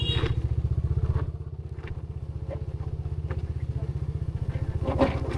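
A motorcycle engine pulses in a fast, steady low thrum at close range while being ridden, with occasional light clatters and thumps over the running beat.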